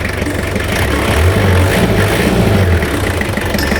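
Toyota Hilux LN106 pickup with its diesel engine running steadily at idle, a loud, continuous low rumble with slight vibration and no pauses throughout.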